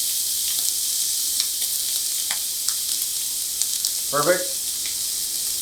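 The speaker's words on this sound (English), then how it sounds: "get that skin on there and make sure it's sizzling" Chicken breast laid skin-down in a hot pan sizzles with a steady bright hiss and occasional pops and crackles, and a voice speaks one short word near the end.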